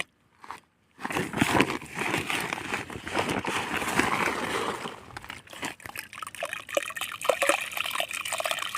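Soil solution for pest control is poured into a drum, giving a close, gurgling splash and trickle that runs for several seconds, then breaks into irregular drips and splashes.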